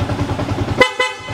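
A Yamaha Sniper 150 motorcycle's dual horn gives two short, loud honks close by, the second following the first after a brief pause over a low engine idle.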